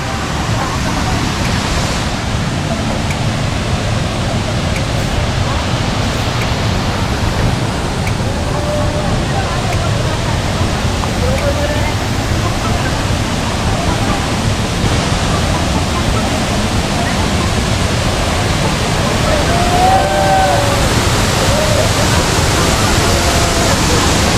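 Bolinao Falls in Pangasinan, a loud, constant roaring wash of falling water that stays even and close from start to finish, with no pauses.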